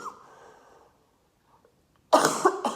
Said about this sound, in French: Je sais que ça va pas être agréable de m'entendre tousser